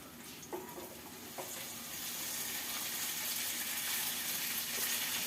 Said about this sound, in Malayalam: നിങ്ങൾക്ക് കോളിഫ്ലവർ അവിടെ ഇട്ട് കൊടുക്കാം.